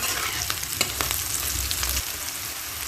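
Green chilies and onion sizzle steadily in hot oil, a continuous crackling fry with a few sharp pops and light stirring scrapes close by, no voices.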